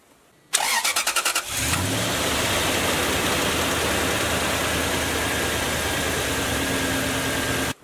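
A vehicle engine cranks briefly with rapid starter pulses, catches and then settles into a steady, loud idle after an oil change, running close by without any talking.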